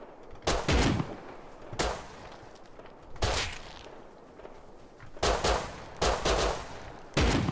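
Pistol shots ring out in the survival video game Rust, six loud sharp reports spaced irregularly roughly a second apart, each with a short echoing tail.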